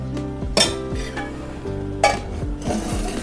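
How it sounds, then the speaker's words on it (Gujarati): Pure cow ghee heats in a pan to temper kadhi, with a soft sizzle beneath repeated metallic clinks and scrapes of a spoon against the pan, close and clear. "હવે આપણે કઢીનો વઘાર કરી દઈશું."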